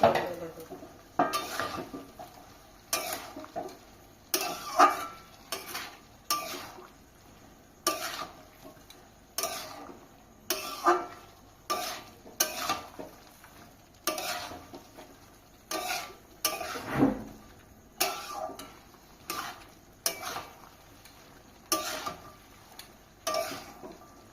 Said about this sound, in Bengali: একটা হলুদ আর লঙ্কা গুঁড়ো দিয়ে দেবো ভালো করে কষিয়ে নিয়ে